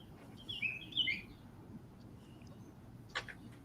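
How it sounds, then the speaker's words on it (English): Birds chirp and whistle in a few quick bright bursts, faint and at some distance over a low steady background hum. "Listen to those birds."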